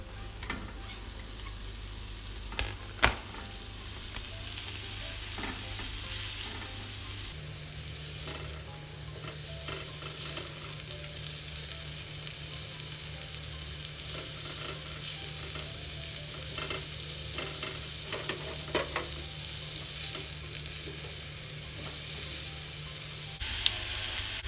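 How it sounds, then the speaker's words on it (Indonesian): Garlic and onion fry in margarine in a pan, sizzling loudly and continuously for a long stretch while a utensil stirs and scrapes through them. "Tumis bawang putih dan bawang bombay sampai benar-benar layu."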